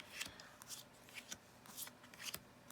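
A deck of cards printed on thick, high-quality cardstock is shuffled by hand. Quiet, close papery flicks and slides come in a quick irregular rhythm.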